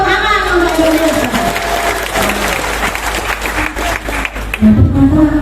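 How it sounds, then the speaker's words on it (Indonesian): An audience at a public speech event in Indonesia claps in steady, dense applause that stays loud throughout, with a few voices rising over it near the end. "Tepuk tangan untuk Indonesia."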